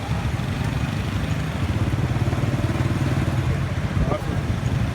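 A motorcycle engine runs with a steady low mechanical drone while riding through city traffic in Vietnam, close and continuous throughout, with faint street noise around it.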